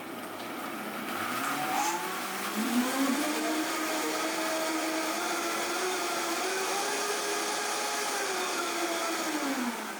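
A Vitamix blender pureeing fresh tomatoes runs as a steady, loud motor whine for the whole stretch, its pitch sliding and wavering as the contents churn.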